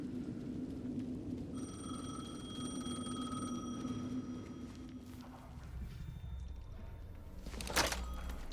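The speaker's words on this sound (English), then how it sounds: "The phone again." A telephone rings in the video game Alan Wake 2, a repeated electronic trill over a low ambient hum, fading after a few seconds, followed by a soft knock and a brief rustle.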